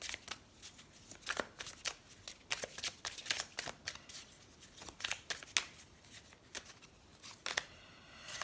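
Oracle cards from a "Rock and Love" deck are shuffled and drawn by hand: crisp, close papery riffles and slides in quick irregular bursts, with no talking.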